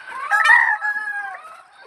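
Layer hens on a free-range farm give a single drawn-out, rising and falling call up close, loud and clear with no other sounds around it.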